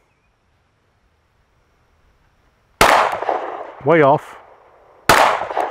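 Two sharp, loud rifle shots on an outdoor shooting range, roughly two seconds apart, fired from a rifle in a Recover Tactical P-IX+ chassis, with a short spoken remark between them after a quiet start.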